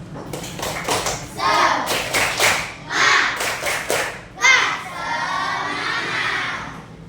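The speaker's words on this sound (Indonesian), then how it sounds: "Coba tepuk semangatnya." A classroom of children clap in bursts and shout cheerfully at a teacher's cue during a school lesson, loud and close, several rhythmic clap volleys followed by a sustained cheer.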